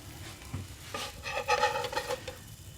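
Oatmeal and treacle pancake sizzling in a pan right after being flipped, a soft frying hiss with a few brief scraping touches.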